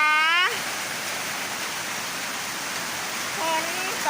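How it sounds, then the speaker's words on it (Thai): Heavy rain pours down steadily at a farmhouse, a dense, even roar of water that fills the whole clip, with a voice speaking briefly at the start and again near the end. "เห็นไหมคะเพื่อนๆฝนตกหนักนะคะ"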